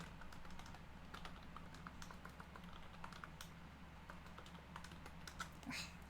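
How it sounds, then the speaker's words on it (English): Steady typing on a computer keyboard, rapid irregular clicks of keys continuing throughout over a low room hum, close and moderately quiet, with no voices. "Really need to sort out a better way of typing."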